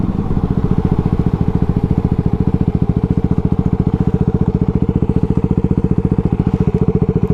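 A Yamaha WR250R motorcycle engine runs steadily close by, a fast, even single-cylinder thrum with a regular pulsing rhythm that holds throughout, with no talking over it.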